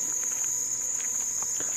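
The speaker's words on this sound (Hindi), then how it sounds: "मच्छर बहुत है" Mosquitoes swarm around a camera light during the rainy season, making a faint, thin, continuous high whine with soft fluttering buzzes close by in an otherwise quiet night.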